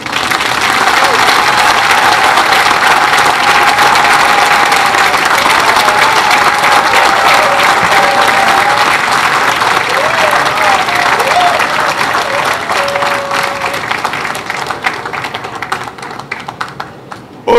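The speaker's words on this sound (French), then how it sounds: "vous et votre équipe, vous avez droit à des applaudissements." An audience applauds a director general and his team at a ceremony opening 150th-anniversary festivities, loud dense clapping that holds steady before thinning and fading toward the end.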